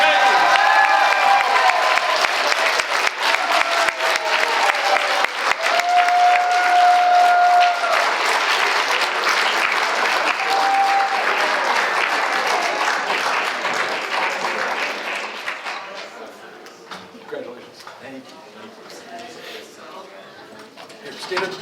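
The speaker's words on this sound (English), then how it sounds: "let's give a big round of applause to our delegates from the 3rd Congressional District." An audience at a congressional district candidate forum applauds delegates on stage, with loud, sustained clapping and some cheering that fades away over the last few seconds. Voices speak over it.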